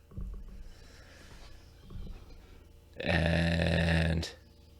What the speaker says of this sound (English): We gotta stop burping. It's so gross.